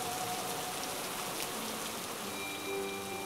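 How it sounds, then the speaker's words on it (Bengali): Cartoon sound effect of heavy rain on a cremation ground at night, a dense steady hiss with scattered drops and a faint tonal hum underneath, no voices. "আমরা মড়াটা সবে মাত্র নামিয়েছি এমন সময় আচমকা বৃষ্টির গতি বাড়ল।"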